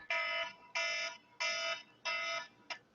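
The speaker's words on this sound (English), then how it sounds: "That alarm went off." A phone alarm rings in four loud, evenly spaced beeping bursts, each about a third of a second long, followed by a short partial burst. It plays alone at close range with no talk.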